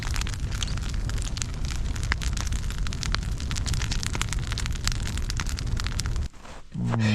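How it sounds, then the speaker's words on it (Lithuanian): Campfire burning at a snowy winter camp, crackling steadily with dense sharp pops and snaps that continue for several seconds before a brief pause and a low rumble. "Sveikinimo laužas"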